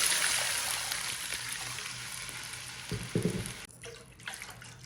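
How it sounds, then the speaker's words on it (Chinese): Water pours into a hot wok holding oil-fried aromatics and chili powder, a loud rushing splash and hiss that eases off, followed by a few bumps and clanks. "瞬间我们就要倒水"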